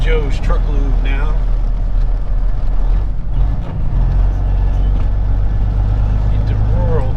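A loaded flatbed semi truck rolls into a truck lube shop for an oil change, its low diesel engine rumble steady and close throughout, with speech over it.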